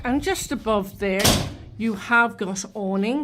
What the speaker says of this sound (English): door banging with the wind there.